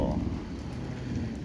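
Steady rain patters and hisses on a surface, a dense, even wash of drops with no voices.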